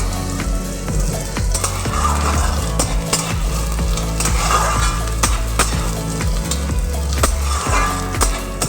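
Onions frying in oil until reddish, a steady close sizzle with repeated scraping strokes of a spatula against the pan, for a potato curry served with kachori.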